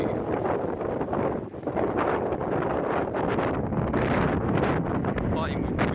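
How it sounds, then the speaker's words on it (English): Heavy wind buffets the microphone in loud, uneven gusts, rumbling and crackling continuously with a few brief dips. "Fighting with the wind to keep the camera still."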